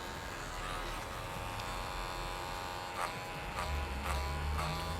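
An electric hair clipper cuts a client's hair at a salon, set to two centimetres, giving a steady close buzz that holds through the whole stretch.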